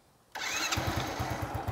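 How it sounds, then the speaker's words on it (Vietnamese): The starter motor of a 2003 Honda Super Dream motorcycle cuts in abruptly after a quiet moment, then whirs steadily with a soft, regular pulsing, recorded close up and free of talk. "Lâu lắm rồi mới nghe củ đề nó im vậy."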